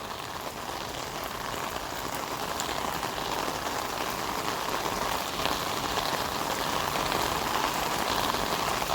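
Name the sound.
heavy rain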